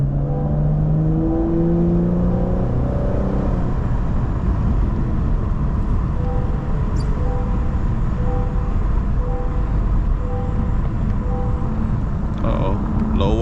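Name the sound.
Cadillac CT5-V supercharged V8 engine revving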